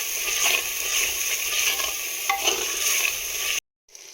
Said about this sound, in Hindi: अब हम इसमें टमाटर शामिल करेंगे और अच्छी सी ग्रेवी तैयार कर लेंगे।